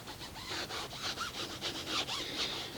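A foam applicator rubbing Mastersons tire and trim shine onto a tire, a soft, rhythmic scrubbing swish repeating in quick back-and-forth strokes, close but faint.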